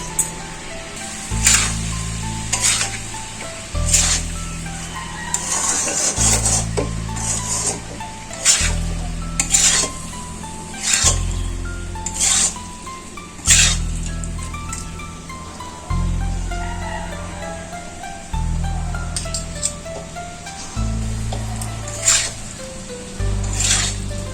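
Cooked rice is stir-fried a little at a time in a pan for chicken fried rice, with rhythmic spatula scrapes and clanks over steady sizzling and a recurring low background hum.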